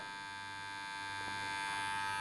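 A Wahl electric hair trimmer runs steadily after its blade is replaced, giving a close, continuous electric buzz with a bright, even motor whine that holds throughout without any talk.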